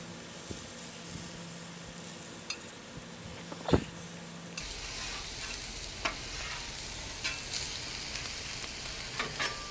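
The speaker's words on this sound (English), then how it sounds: "Let's cook that egg." Soft steady sizzling of an egg frying in a pan over medium heat on a Weber Slate griddle, with occasional light clicks and scrapes; no talking.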